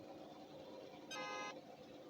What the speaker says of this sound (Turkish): Ben nereden kornaya basıyorum Allah'ım?